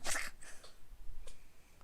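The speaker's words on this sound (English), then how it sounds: "That was a really big sneeze from a small cat." A small, sharp sneeze burst right at the start, followed by a couple of faint soft snuffles in an otherwise quiet room.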